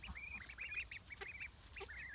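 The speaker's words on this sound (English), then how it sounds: "It's starting to sound more like a quack than a cheep." A young duckling gives a series of short, squeaky calls, somewhere between a cheep and a quack, repeated in quick bursts at close range.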